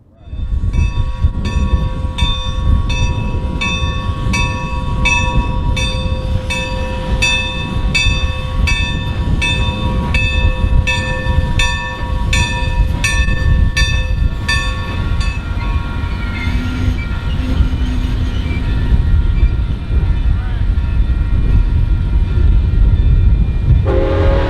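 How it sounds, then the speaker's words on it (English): Milwaukee Road 261 steam locomotive hauling the Harvest BBQ Express rolls past near Arlington, a loud, close, continuous rumble of wheels and cars with a long series of repeated whistle blasts over the first half. "We followed the train into Arlington, where they would stop to unload some supplies."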